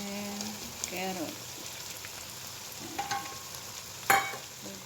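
Potato and carrot stirred and mixed in a pot give soft, quiet scraping and clinking with a faint sizzle underneath, with a few sharper knocks of the utensil against the pot.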